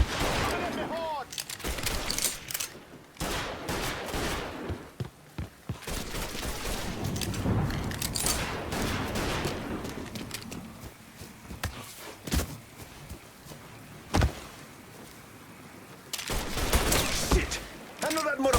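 Gunfire in the video game Mafia 3 crackles in scattered bursts and single sharp shots, with thuds and movement between them and fainter stretches in the middle.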